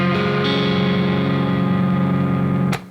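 A distorted electric guitar chord with the lowest three strings barred by one finger, sustained loud and steady for under three seconds before being cut off abruptly.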